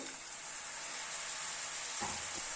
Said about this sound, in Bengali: মিডিয়ামে রেখে মশলাটাকে ধীরে ধীরে কষিয়ে নেব।